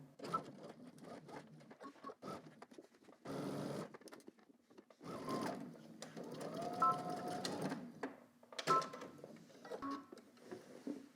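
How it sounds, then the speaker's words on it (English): A sewing machine stitches a 5/8-inch seam down a garment, its needle whirring in several runs of a few seconds each, broken by short pauses, close and moderately loud. "now we're gonna stitch all the way down using 5/8 of an inch seam allowance"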